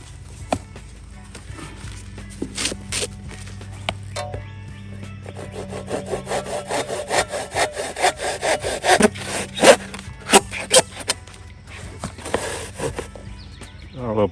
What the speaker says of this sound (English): I'm using a handsaw because I don't want to ruin the wood